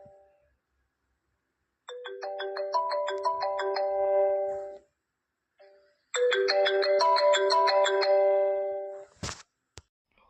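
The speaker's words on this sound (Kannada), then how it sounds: "ಫೋನ್ ಯಾರ್ದು ಬತ್ತು?" A phone ringtone plays a bright, bell-like melody in two bursts separated by a short pause, fairly quiet and close, followed by a couple of sharp clicks, in a cartoon comedy scene.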